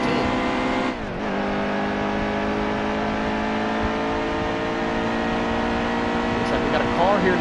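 Race cars lapping a track in the video game NASCAR Heat 2, a steady dense whine of engines with a car sweeping past, under ongoing talk.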